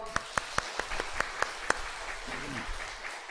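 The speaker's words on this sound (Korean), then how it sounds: "박수." A handful of sharp, evenly spaced claps ring out in a quick rhythmic run during a weekend church revival meeting, then stop, leaving a faint room hum.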